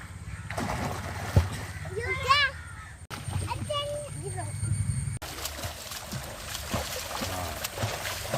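Water splashes and sloshes as someone swims, with irregular splashes under frequent talking and children's voices.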